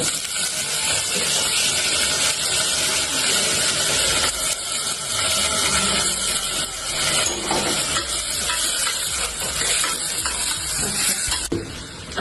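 Washed eggplant pieces frying in hot oil with garlic-ginger paste, a loud, steady sizzle and hiss with stirring scrapes throughout, close up and without talk.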